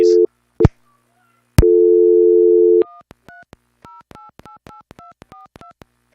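A telephone line gives a loud, steady busy tone in long bursts, then switches to a quick run of short electronic dialing beeps, sharp and close with clean gaps between them.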